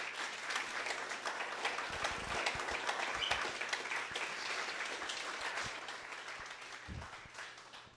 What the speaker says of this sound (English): Please join me in giving her a well-deserved round of applause.